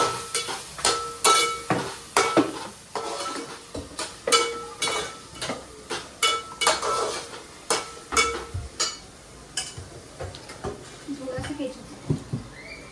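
Spoon scraping and stirring Manchurian gravy in a pan, a series of loud rhythmic clinks and scrapes against the metal with a soft sizzle, while someone talks throughout.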